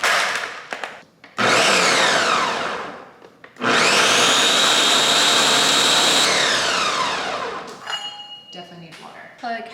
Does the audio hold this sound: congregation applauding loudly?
no